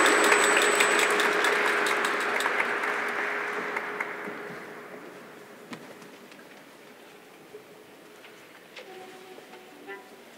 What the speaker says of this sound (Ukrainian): Прошу оплески.